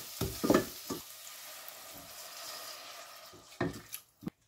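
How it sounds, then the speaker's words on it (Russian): Wine goes into saffron risotto rice in a hot pan, bringing a steady soft sizzle between a few clustered knocks of a utensil at the start and the end. "Добавляю немного вина."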